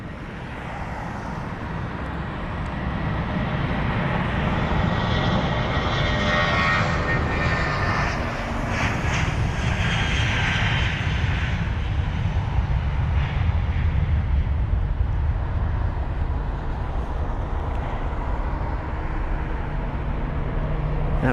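British Airways Airbus A320-200 jet departing Heathrow, a loud continuous engine roar that holds strong and steady throughout, with a rushing, wind-buffeted texture as the aircraft climbs away.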